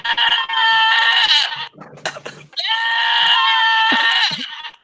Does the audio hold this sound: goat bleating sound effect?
yes